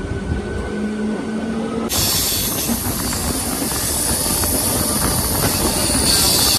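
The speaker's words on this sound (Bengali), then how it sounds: "ছেড়ে দিল কিন্তু আমাদের ট্রেন।" A passenger train from Kolkata toward Digha pulls out near Tikiapara station and rolls along the rails with a dense rumble. The noise steps up sharply partway through into a louder, brighter rush of wheels and carriages, with no speech.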